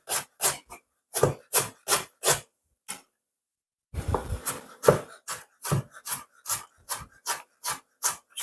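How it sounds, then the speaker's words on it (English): Fresh ginger root with the skin left on is grated by hand in a steady series of close, rasping strokes, with a short pause midway before the rhythmic scraping resumes. "cut the ginger up. You can grate it"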